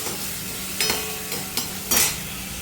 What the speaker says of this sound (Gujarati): જો આ ઘી થઈ જાય એની અંદર નાખી દેવાના થોડા ચીલી ફ્લેક્સ